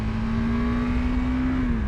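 KTM 390 Adventure motorcycle engine held at high revs near 8,000 rpm, a steady sustained whine with a strong constant tone throughout, loud and close.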